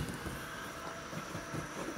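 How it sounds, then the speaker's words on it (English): A Southeastern passenger train on the Dartford or Gillingham via Bromley South line near Brixton, London, passes close by with a steady rumble, hiss and rhythmic wheel clatter, and no voices. "that was a Dartford bound Southeastern service or a Gillingham bound service, Gillingham via Bromley South"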